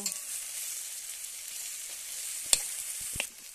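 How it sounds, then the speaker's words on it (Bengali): Chicken curry base of garlic and ginger paste is stirred in a pan with a soft, steady sizzle. A couple of sharp utensil clinks come near the end, and no one speaks. "আদা বাটাটা দিয়ে ভালো করে নেড়ে নেব"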